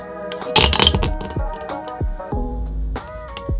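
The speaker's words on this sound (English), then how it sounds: "the skull broke the glass" A skull prop smashes a glass in an attic home studio, a sharp crash followed by a run of tinkling, ringing shards and clinks settling over several seconds, close and loud.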